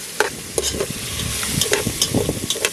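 Jamaican saltfish fries in a pot over an open fire, crackling and sizzling up close with irregular clinks and scrapes of a stirring utensil, no one speaking.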